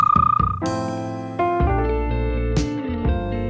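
A small frog croaks close by, a pulsing run of calls followed by longer resonant notes that rise and sustain, standing alone without any talk.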